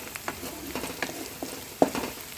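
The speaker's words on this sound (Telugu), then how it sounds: "ఇప్పుడు అల్లం, వెల్లుల్లి, కొత్తిమీర కచ్చపచ్చగా దంచి ఈ ఆనియన్ దాంట్లో వేసుకోవాలండి. పచ్చి వాసన పోయేంత వరకు వేయించుకోండి." Onion frying with a coarse paste of ginger, garlic and coriander gives a quiet, steady sizzle with soft crackles and stirring clicks, one sharper pop near the end, and no voices.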